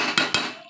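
Metal lid set onto a cooking pot of boiled meat, two quick bright clanks about a fifth of a second apart, close and ringing briefly before fading.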